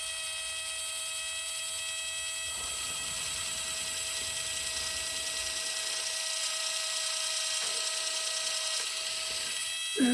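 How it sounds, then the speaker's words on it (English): A very fine-tipped drill bores holes in cannon port covers for a 1:84 Artesania Latina Santisima Trinidad model ship, giving a steady, thin, high whine over a constant electrical hum that runs unbroken throughout. "when you're using these very fine tip drills, try not to put any side force on them"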